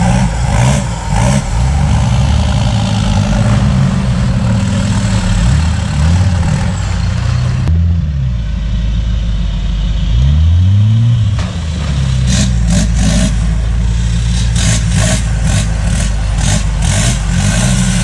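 A Troller off-road vehicle with a five-cylinder engine runs loud and close on a dirt trail, its engine rumbling steadily with swells of revving and accelerating and no talk over it.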